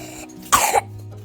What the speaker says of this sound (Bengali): কাশি হয়েছে রে